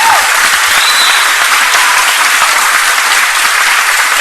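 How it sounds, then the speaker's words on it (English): An audience at a Gorokan High School performance of Joseph in 1980 applauds the band: dense, steady clapping fills the whole stretch at close range and full loudness, with no voices over it. "So another round of applause"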